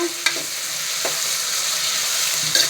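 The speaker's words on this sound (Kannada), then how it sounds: "ಮೂರು ಹಸಿಮೆಣಸಿನ್ಕಾಯಿ ಹಾಕಿಕೊಳ್ಳಿ ಈರುಳ್ಳಿಯನ್ನು ಚೆನ್ನಾಗಿ ಬಾಡಿಸಿಕೊಂಡು" Onions and three green chilies sauté in a pan for a mushroom biryani, giving a steady close sizzle with a couple of sharp spoon-stirring scrapes at the start and near the end.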